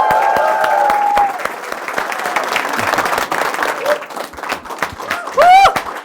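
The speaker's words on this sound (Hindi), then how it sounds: "खड़े पे ताली बजनी चाहिए।" Audience at a stage interview applauding the arriving guest, a coach-institute founder, with sustained clapping and crowd noise, some whoops, and a voice over an amplified system partway through.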